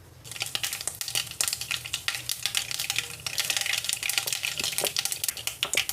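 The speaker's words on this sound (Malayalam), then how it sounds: "കടുക് പൊട്ടിക്കുക." Mustard seeds splutter and pop in hot coconut oil, a dense run of sharp crackles and sizzling bursts that grows busier over several seconds, close up and with no talking.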